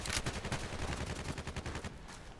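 Rapid automatic gunfire in a shooting video game, dense bursts of shots rattling in quick succession throughout, loud and close, easing slightly near the end.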